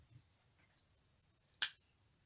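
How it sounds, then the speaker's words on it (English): Scissors snipping yarn during crochet: a single quick, crisp cut close by, preceded by faint soft handling noises in a quiet room. "Then chain one and cut your yarn."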